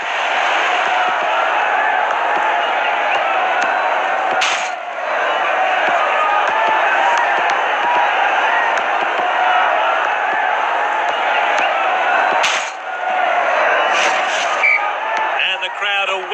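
A football stadium crowd roars after a home goal at a 2019 match: a dense, loud, sustained wall of cheering that barely dips across sixteen seconds, with a couple of sharp thuds breaking through.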